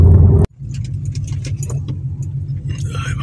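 A Ford Mustang being driven, its engine a steady low rumble inside the cabin after a sharp cut, with faint rattles and jingling over the drone.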